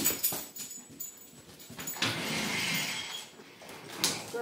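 A dog whimpers indoors near a sliding door, its soft whines broken by small knocks and a broad rush of noise midway, at close range with no talking.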